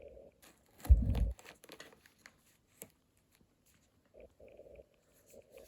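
A knife slices open a freshly harvested jalapeño pepper with one short, close crunchy burst, followed by softer scattered rustles and light handling noises.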